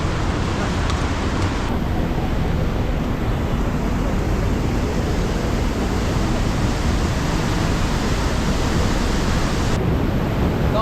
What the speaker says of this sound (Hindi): ये मेरे ख्याल से शायद कोई नदी है या झरना है